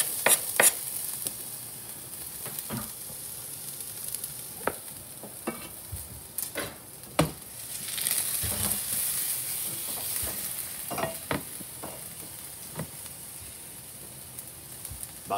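Garlic and ginger stir-fried in a piping hot pan for a Vietnamese crispy noodle stir fry, a soft continuous sizzle broken by sharp clatters and scrapes of a utensil against the pan.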